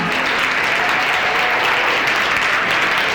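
At an event attended mostly by women, the crowd breaks into loud, continuous applause. The dense, steady clapping fills the whole moment with no break.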